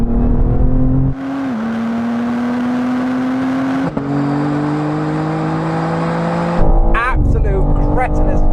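Cars in a rolling drag race from 50 mph, gearbox in manual mode, engines droning and surging steadily under acceleration with shifts, close and loud, with a person speaking over the engine noise.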